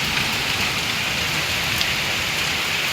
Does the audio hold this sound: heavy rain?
yes